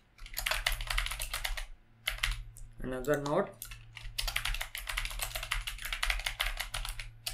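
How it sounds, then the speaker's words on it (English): Rapid, steady clatter of typing on a computer keyboard, close and continuous through the stretch, with a brief pause where someone speaks a few words. "focus scope of context dot request focus new focus node"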